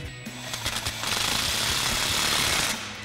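A power tool with a 14 mm socket rattles loudly in a rapid, continuous hammering burst while snugging exhaust clamps on an EcoBoost Ford F-150 Magnaflow dual exhaust, close up and alone, preceded by a few short taps.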